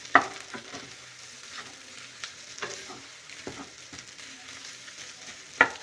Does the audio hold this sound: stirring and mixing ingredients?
yes